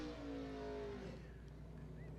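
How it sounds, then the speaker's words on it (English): Stock car laying down a tire-smoking burnout on American Racer tires in turn 1 at Jennerstown Speedway after a win, a steady loud engine roar and tire noise, with a commentator talking faintly over it. "a very jubilant Brent Nelson lights up the tires down in turn 1."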